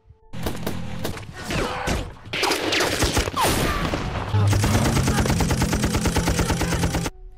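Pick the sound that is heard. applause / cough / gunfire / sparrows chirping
gunfire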